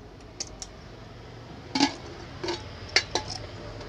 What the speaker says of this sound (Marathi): आज आपल्याकडे अशा पद्धतीचा 5 लिटरचा रेग्युलर कुकर आलेला आहे